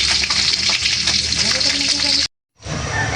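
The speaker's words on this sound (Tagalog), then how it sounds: "prito ko na po itong ating isda" Loud, close sizzling of fish frying in oil, crackling and popping, cut by a brief moment of silence before the sizzle resumes.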